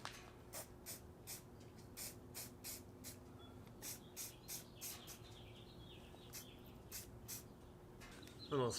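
Short bursts of spray paint hitting a Hummer H3 differential part, repeated hisses in an irregular rhythm, close and fairly quiet, with faint birdsong in the background.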